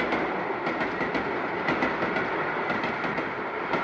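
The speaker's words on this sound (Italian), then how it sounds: "il treno è sempre il treno" A passing train with a long string of wagons, a steady loud rumble with rhythmic clickety-clack of wheels over rail joints, continuous and close throughout.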